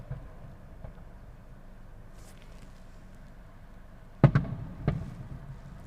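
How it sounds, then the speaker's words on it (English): Distant Magic Kingdom test fireworks bursting outdoors: a steady low rumble of ambient noise, then a sharp loud boom followed by a couple of quicker cracks and a softer trailing burst near the end. "so you can hear some of those fireworks going off."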